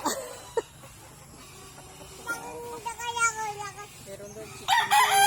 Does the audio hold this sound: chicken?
yes